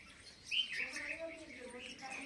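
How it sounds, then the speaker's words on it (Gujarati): Small birds such as bulbuls and sparrows chirp briefly in a farm orchard, a few faint tweets heard at a distance over quiet outdoor ambience. "બાકી જો આ બુલબુલ ને વરવાંગણા ને બીજા ખિસખોલા ને ચકલા ને બધા ખાઈને મજા કરે."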